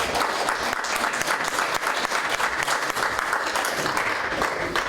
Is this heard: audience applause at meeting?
yes